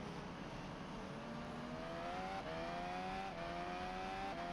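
Formula 1 car on an onboard qualifying lap with Albon at the Brazilian Grand Prix, a steady high-pitched engine tone rising through the gears with brief dips at each upshift, continuous and close.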